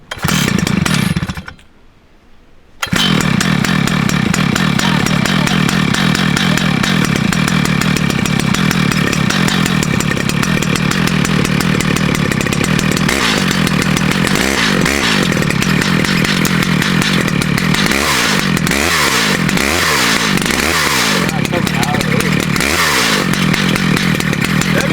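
A Stihl MS 881 chainsaw running at full throttle, cutting into a 50-inch maple log, a loud continuous roar with a brief drop at the start, then steady cutting with occasional revving surges.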